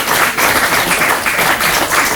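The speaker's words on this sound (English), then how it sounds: "Round of applause" Studio audience at a television crossword game show breaks into steady applause, a dense, even wash of clapping that holds for about two seconds at fairly close range.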